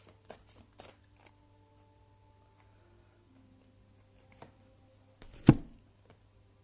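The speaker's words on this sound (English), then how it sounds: "I'm going to reshuffle because I've just dropped them" Oversized crystal oracle cards are shuffled by hand in a few quick riffling bursts near the start and again toward the end, fairly faint and close, with quiet pauses between.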